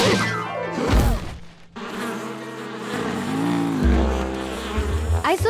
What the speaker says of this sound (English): The bees are protecting their home.